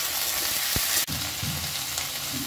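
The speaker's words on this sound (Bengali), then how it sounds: "এই তেলের মধ্যে আমি এবার দিয়ে দেব এঁচোড়।" Pieces of jackfruit hiss and sizzle in hot oil in a pan, a steady close frying noise with a brief clatter partway through.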